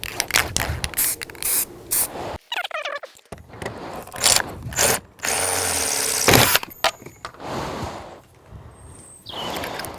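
Rattle-can spray paint applied as a key coat to parts of a classic BMW E36 328i Touring, heard as bursts of hissing spray broken by short pauses, clatter and handling noises, close and fairly loud.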